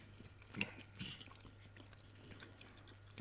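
A crisp fried dumpling with ackee and saltfish is chewed close to the mic, one sharper crunch early and then quiet, soft mastication over a low background hum.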